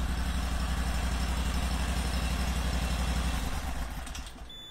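Small engine on a Panther water jetter idling steadily with a fast, even putter, close and fairly loud, then dropping in level near the end.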